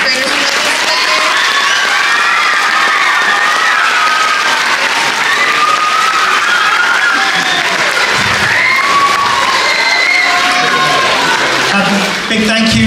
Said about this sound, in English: can we get a really big round of applause for our fifth graders who did this today?